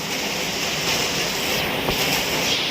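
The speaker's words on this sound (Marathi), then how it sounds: "वारा आणि पाऊससुद्धा आहे" A loud, steady roar of strong stormy wind with rushing heavy rain noise in Chiplun, constant and unbroken throughout.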